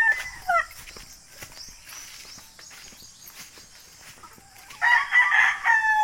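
Chickens cluck faintly in the background of a backyard coop with plants, then a rooster crows loudly and close near the end.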